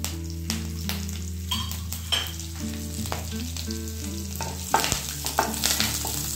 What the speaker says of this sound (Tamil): இதை நல்லா வறுத்து விட்டுக்கலாம்